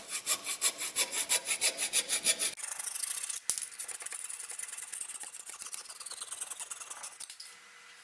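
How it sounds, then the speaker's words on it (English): A coping saw cuts through a wooden axe handle on a flea-market axe restoration, giving fast rhythmic rasping strokes at first, then a steadier, smoother scraping, all close and fairly quiet. "finishing it off with the coping saw is just a little less intimidating"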